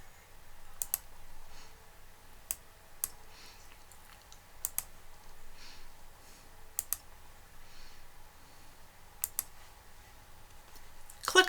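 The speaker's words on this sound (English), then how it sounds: "Select the dates that you are interested in and then click on Apply Filters" Sparse, quiet mouse clicks while choosing dates in a filter and pressing an apply button, a handful of crisp isolated taps spaced a second or two apart over a faint room hiss, with no speech.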